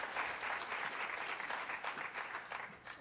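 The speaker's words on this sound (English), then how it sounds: "Jonas, please give an applause when you come up." A room full of people clapping, continuous applause at moderate level that tapers slightly toward the end.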